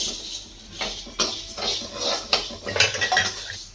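Barley roasting in a pan while a spoon stirs it: close, bright metallic scrapes and clinks of the spoon against the pan come in an irregular rhythm, with no speech.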